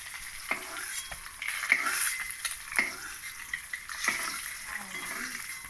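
Potatoes fry in hot oil after duck eggs, a soft steady sizzle broken by several sharp clinks and scrapes of a spatula stirring in the pan, fairly quiet and close.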